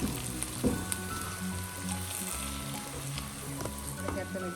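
Chicken curry ingredients fry and sizzle in a pan as they are mixed together, a close, continuous crackling hiss with occasional stirring scrapes.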